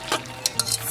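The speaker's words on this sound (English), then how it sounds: "I'm adding our concoction with the egg and just stirring it all" A spoon stirs an egg mixture into plain macaroni in a bowl, making a few quick wet scraping strokes up close within a brief moment.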